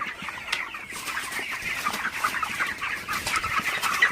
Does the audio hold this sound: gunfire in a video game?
no